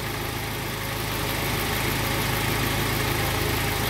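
Steady engine of a 1990 Honda Prelude Si idling, a continuous low rumble that holds even and close throughout, slightly louder toward the end, with no talk.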